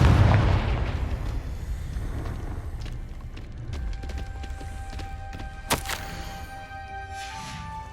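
A Confringo spell explosion in Hogwarts Legacy bursts loudly with a deep boom, then rumbles away, followed by scattered crackles and a sharp magical zap partway through.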